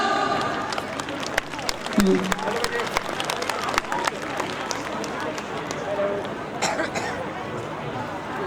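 An audience at a school Parents' Day celebration in Mancotta claps throughout, a steady crowd applause with murmuring and a brief voice partway through.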